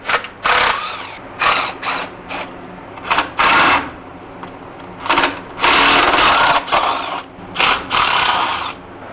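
A socket ratchet wrench turns grimy bolts on a 1970 C10 truck, loud close bursts of rapid clicking that start and stop in short irregular runs between brief pauses.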